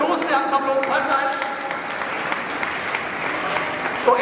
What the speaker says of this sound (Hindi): मैं चाहूंगा कि आप सभी एक बार अपने लिए जोर से तालियां बजाएं